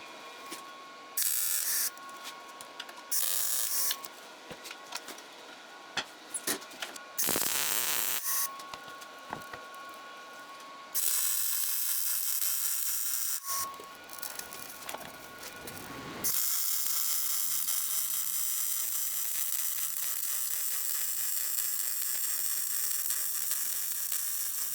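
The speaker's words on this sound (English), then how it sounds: "let's go ahead and get welding this" Welding a rack in a car engine bay: crackling, sputtering bursts come in short runs separated by pauses, then settle into a steadier, louder hiss near the end.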